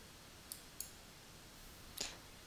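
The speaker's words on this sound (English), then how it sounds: "clicked the wrong mouse button" Computer mouse buttons clicking at a desk during image-processing work, three short, faint, sharp clicks spread apart over a quiet background hiss, the last a little louder.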